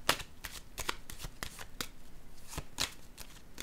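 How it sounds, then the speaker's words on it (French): A tarot card is drawn from a deck and laid down, producing a quiet series of crisp card slides, flicks and soft taps on a table, close but faint, with no talking. "Je vais déposer une autre carte."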